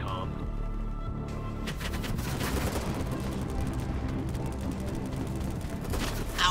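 Video game gunfire, with rapid bursts of shots and clattering weapon noise crowding a busy battle soundscape, fairly loud and nearly continuous, sometimes under a player's voice.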